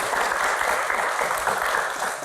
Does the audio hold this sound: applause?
yes